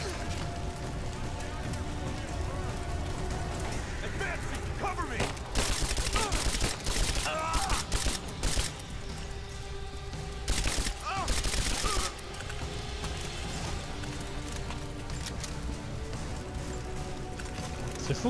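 Gunfight in Rise of the Tomb Raider inside the mines, bursts of rapid gunfire clustered in two loud volleys amid ongoing game ambience, with someone talking over parts of it.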